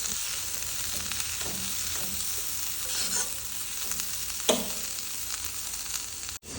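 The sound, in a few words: stirring egg masala filling with coriander leaves in a pan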